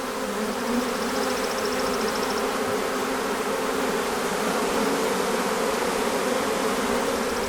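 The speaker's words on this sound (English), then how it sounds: "look at how all the bees naturally are going to the queen cage there" A close, continuous buzzing swarm of Saskatraz honey bees around a queen cage at a horizontal hive holds an even, dense drone from start to finish with no voices.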